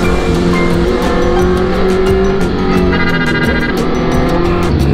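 A Honda CB1000R motorcycle, a 1,000cc bike, rides through the Kaybiang Tunnel, its engine droning loud and steady with a reverberant roar and shifting pitch throughout.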